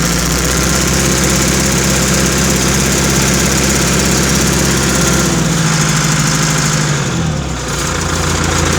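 Riding mower engine running close and loud at a steady idle with mechanical vibration, then dropping in speed and nearly stopping before picking up again.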